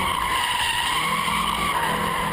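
A drift car slides with its rear tires locked by a hydraulic emergency brake, giving a continuous loud tire squeal and skid over engine noise for a couple of seconds, with no voices.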